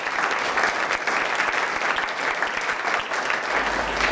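An audience at a school annual result function claps in steady, dense applause from start to finish, a broad, even patter of many hands with no voices above it.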